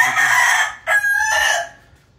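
A young McLean bull stag rooster, nearly five months old, crows close by: a loud, strained call with a brief break partway through, trailing off after about two seconds.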